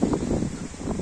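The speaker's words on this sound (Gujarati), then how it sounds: "પવન વધારે ચડી ગયો છે" Strong wind gusting across an open farm field beside a well-watered plot, a steady broadband rush with buffeting on the microphone lasting throughout, loud and close.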